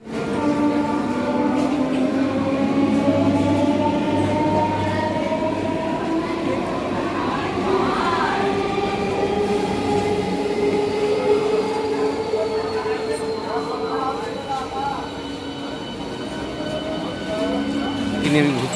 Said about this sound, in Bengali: ট্রেন ঢুকলো, ট্রেনে উঠে পড়লাম।